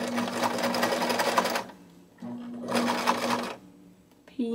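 A sewing machine stitches the lining into a knitted purse in two quick bursts of rapid, whirring needle clatter separated by a short pause, with a small click at the end.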